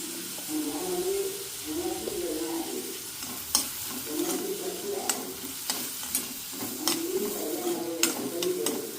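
Onion fries in a pan with asafoetida until turning pink, a continuous sizzle broken by repeated sharp scrapes and taps of a spatula stirring, with no talking.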